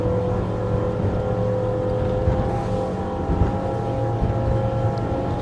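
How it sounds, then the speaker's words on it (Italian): Twin engines of a Scarib 9.0 motorboat roar steadily at about 5900 rpm while running near 43 knots, a loud continuous drone with wind and water rush and no talking. "Sentite il rombo dei motori"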